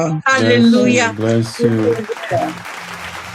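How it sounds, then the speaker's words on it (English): A church congregation claps at a morning service, a broad wash of applause rising under a preacher's voice and continuing as talk fades near the end. "Clap for Indira."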